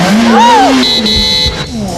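A car sound effect plays loud and close as a revving engine sweeps up and down in pitch. A high tire-squeal-like whine follows for about a second.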